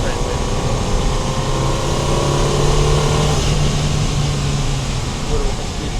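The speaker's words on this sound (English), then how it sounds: "Little additional blow off there, a lot of pressure being built" Saab 9-3 Viggen under hard acceleration, a loud continuous turbocharged engine roar with a hissing turbo blow-off rushing over it, steady and close throughout.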